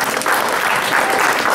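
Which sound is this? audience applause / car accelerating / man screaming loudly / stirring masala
audience applause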